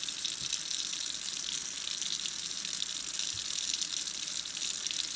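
Hot water runs steadily from a tap into a sink while a model horse is washed, a constant close hiss and splash with no talk over it.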